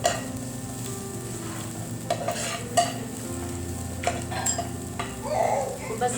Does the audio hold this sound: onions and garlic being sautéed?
yes